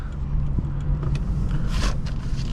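A 2006 Lexus IS250 pulls away in drive, its engine a steady low rumble heard from inside the cabin, with a brief swell of road and air noise midway and no talk.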